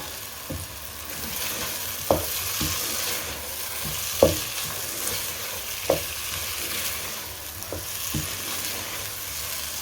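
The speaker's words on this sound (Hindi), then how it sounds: "अब अंडे इसमें डाल देंगे और इनको अच्छे से मिक्स कर लेंगे। फ्लेम को मैंने हाई कर ली है।" Beaten eggs frying and being stirred into potatoes over a high flame for aloo anday bhujia, a steady sizzle with periodic sharp scrapes and taps of the spatula against the pan, close and alone.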